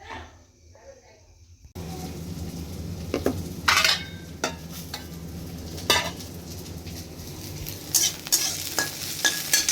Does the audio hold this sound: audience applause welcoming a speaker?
no